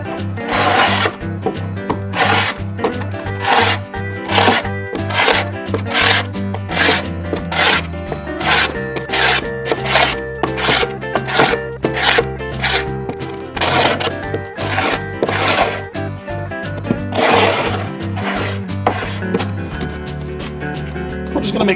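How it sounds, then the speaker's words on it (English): A scraper is drawn repeatedly across a rough wooden board for beehive bottom boards, giving steady rhythmic rasping strokes roughly every second, loud and close, with a low background hum beneath. "With the scraper, it's going to make quick work of it."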